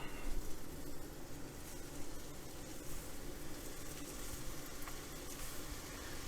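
Shrimp sizzle in a pan of butter and vegetable oil, a constant broadband crackle that holds level and quiet throughout with no voices over it.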